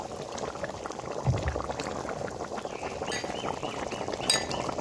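A pot of water with braised chicken at a rolling boil after cumin paste goes in, a dense continuous bubbling with a faint clink of metal now and then, close and steady with no voices.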